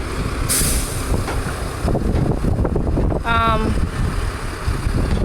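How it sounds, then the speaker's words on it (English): Wind gusts and buffets the microphone outdoors at a roadside where a tipper truck is offloading heavy sand. Heavy rumbling wind noise runs throughout, a vehicle is audible beneath it and a short whistling tone sounds midway. "the wind has picked up"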